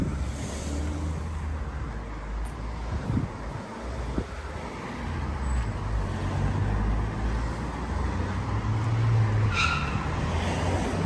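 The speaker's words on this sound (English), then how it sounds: "Everyone seems to be in a bit of a hurry today with all the wheels squealing that's going on." Car tyres squeal on a busy town road in Luton, heard from a walking route amid steady traffic rumble and wind, with a brief higher squeal rising near the end over the background roar.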